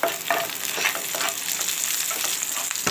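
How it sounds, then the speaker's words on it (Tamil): Garlic frying in ghee in a pan, a constant close sizzle with repeated light stirring scrapes every fraction of a second, no voices. "பூண்டு கொஞ்சம் பொரியிற மாதிரி இருக்கணும்."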